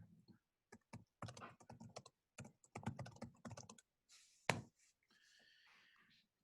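Bursts of typing on a computer keyboard in an office setting, quick irregular key clicks in clusters with short pauses, fairly close and clear, no talking.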